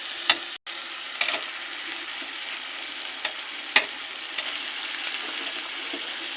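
Chicken pieces fry and sizzle in a pan of cooked-down masala with a little water, a steady close hiss broken by a few sharp spatters and stirring clicks, with no voices.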